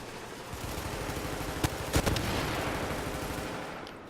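Rapid gunfire crackles through a firefight in the shooter game Tom Clancy's The Division, a dense continuous burst with a couple of sharper louder shots standing out near the middle.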